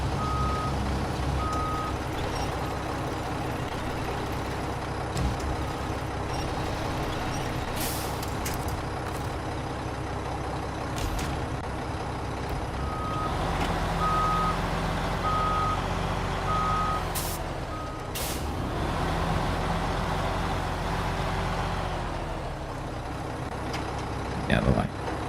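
Reversing beeps from a heavily overloaded truck in SnowRunner ring out in evenly spaced bursts over a loud, steady diesel drone, with an air-brake hiss and the engine note shifting as the truck moves.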